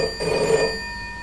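Telephone ringing in the video game Quod: Episode 1, a steady electronic ring that holds for about a second and then fades, heard alone without any talk.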